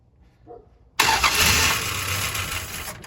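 A 1971 Dodge Charger Super Bee engine cranks and catches abruptly after a near-silent moment, then settles into a loud, steady running roar close by.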